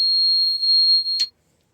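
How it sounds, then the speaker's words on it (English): A steady high-pitched electronic alarm tone holds on a twin Cummins B-series powered Navy jet boat with a fuel problem, then cuts off with a brief click, leaving silence. "shut that alarm off"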